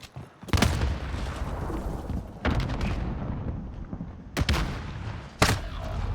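Several loud gunshots from Call of Duty, sharp booming cracks spaced apart, each followed by a lingering rumble.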